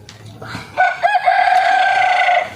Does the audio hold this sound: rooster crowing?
yes